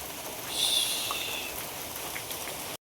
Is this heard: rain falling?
yes